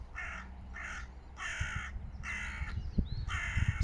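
Crow calling in a series of about five harsh, evenly spaced caws, fairly close and loud, over a low background rumble with some knocks and thumps.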